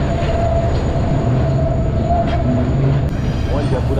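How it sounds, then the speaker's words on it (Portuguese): A train climbing the Serra do Mar mountain railway rumbles steadily and loudly up close, with a continuous wheel-and-rail drone and a faint squealing tone throughout, and a voice briefly heard in the background. "que da hora subir essa serra de trem"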